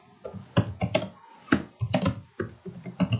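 A search is typed on a computer keyboard in quick, irregular bursts of close, crisp key clicks with short pauses between them, and no voice over them.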